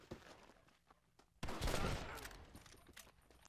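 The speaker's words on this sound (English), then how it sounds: "Blind fire never works." In the Red Dead Redemption video game, a burst of blind-fired gunshots erupts at mid-distance, a loud rattling volley after softer scattered shots and footsteps, then trailing off.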